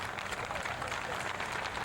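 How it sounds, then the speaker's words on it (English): Crowd applause and cheering fill a 1988 Jesse Jackson campaign rally, a dense, steady roar of clapping with a noisy wash throughout and no clear pauses over the short stretch. "Next applause."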